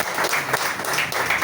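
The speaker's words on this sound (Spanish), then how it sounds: "Dale un aplauso al Señor." A church congregation applauds during a Spanish-language Sunday sermon, a brief burst of dense, steady clapping that fills the room with no voices over it.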